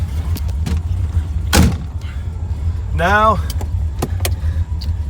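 A 1969 Corvette with roughly 450 horsepower rumbles at a low, steady idle before heading out, with a solid clunk partway through as someone speaks briefly over the engine.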